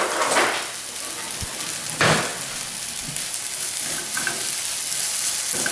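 Vegetables sweat in a frying pan for a frittata, giving a steady sizzle with occasional stirring scrapes close by.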